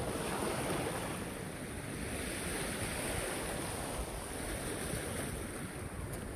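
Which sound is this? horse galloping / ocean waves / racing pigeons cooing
ocean waves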